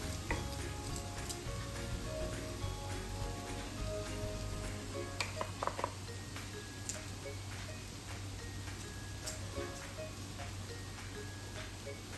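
Masala spices sizzle and fry with brinjal in a pan as they are stirred, giving a steady close crackle with occasional scraping clicks of the spoon.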